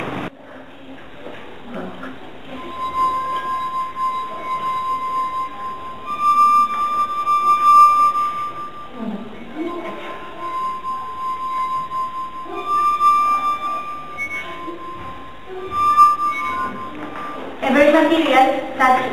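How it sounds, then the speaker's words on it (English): A sustained ringing tone from a wet finger rubbed around a glass rim, wavering in strength, with a person talking over it throughout. "adjust the pressure of your finger with the rim of the glass to keep producing the sound"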